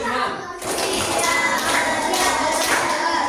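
A group of schoolchildren claps coded rhythms together in class, a full, crackling spread of hand strikes that resumes after a short dip and stays loud and near, with kids' voices underneath.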